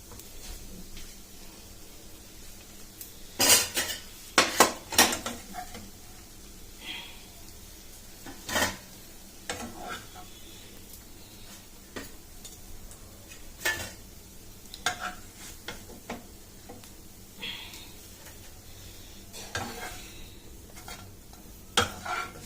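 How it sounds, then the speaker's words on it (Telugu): Pav buns toasting on both sides in a pan, a low background sizzle broken by scattered sharp scraping and clinking of a spatula against the pan, with no one talking. "ఇలా రెండు వైపులా కాల్చుకొని పెట్టుకోవాలి. ఇప్పుడు మనం మరొకసారి ఇటువైపున కూడా కాల్చుకొని పెట్టుకోవాలి."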